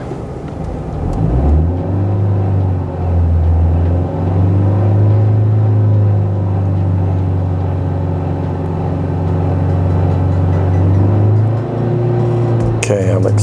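A warmed-up 2001-2005 Honda Civic engine revs under acceleration, a steady loud droning hum that climbs and holds its pitch with small dips, ending in a brief clunk.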